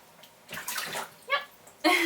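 Water splashing in a bathtub while a cat is being bathed, a few short sloshing bursts with a louder splash at the end, close by.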